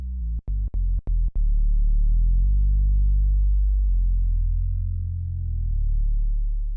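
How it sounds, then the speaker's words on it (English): A Minimoog Model D plays a deep, round bass tone with its filter cutoff set very low, which makes the sound almost pure and sine-like. A few quick clicks open it, then a low note sustains steadily. "So it's very sine wave-like because of this heavy filtering."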